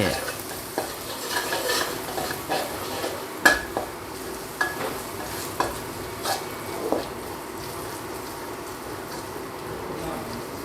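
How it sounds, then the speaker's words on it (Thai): Garlic sizzles softly in hot lard as a spatula clicks and scrapes against the pan in irregular strokes. "น้ำมันหมูเล็กน้อยนะครับ กระเทียมลงเจียวให้หอม"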